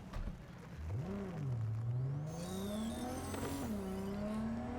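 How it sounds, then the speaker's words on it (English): A car in a video game drives and revs, its engine tone rising and dipping smoothly through gear changes, loud and close, with a tire squeal and whooshing wind near the end. "let's try to drive our car"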